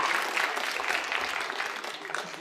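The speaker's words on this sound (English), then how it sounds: "Give a round of applause to all the beautiful people from all around the world." A live audience breaks into a steady round of applause at an event, dense clapping sustained throughout at moderate level with a faint murmur underneath.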